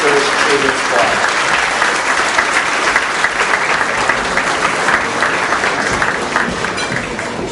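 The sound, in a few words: audience applause for a children's choir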